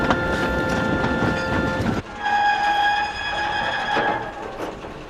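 A train pulling freight trucks rumbles and clatters along the rails, then a sustained horn sounds nearby over the steady rolling noise.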